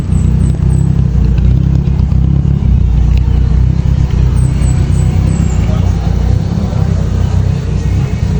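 Heavy road traffic with cars and motorcycles makes a loud, steady engine rumble close by. Occasional high squeaks cut through it, and talk is faintly mixed in.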